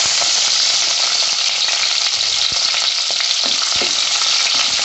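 Ginger, garlic and green chillies fry in oil with fenugreek seeds, a loud, dense, unbroken sizzle close up, with faint scattered ticks of stirring underneath.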